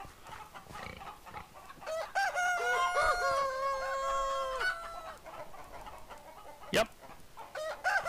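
Minecraft chickens cluck and squawk in a run of bird calls on a game farm, with a sharp higher call near the end; a voice speaks briefly over it.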